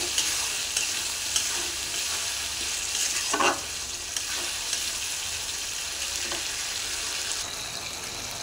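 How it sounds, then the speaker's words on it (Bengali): Cut potatoes frying in oil spiced with chili powder and cumin give a steady, close sizzle, with a scraping stir of the pan partway through. "এবার দিয়ে দেবো কেটে রাখা আলু"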